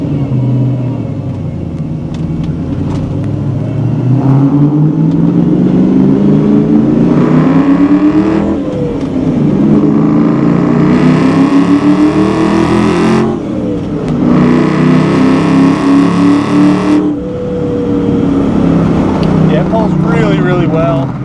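A supercharged 1994 Ford Mustang accelerates hard on a test drive, its engine note climbing through the revs in several rising pulls separated by gear changes, loud and close from inside the car with a speaking voice over it.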